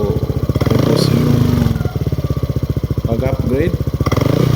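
Yamaha Aerox motorcycle fitted with a VMAX Orion power pipe exhaust, idling loud and close with a deep pulsing bass putter, briefly blipped, while someone talks over it.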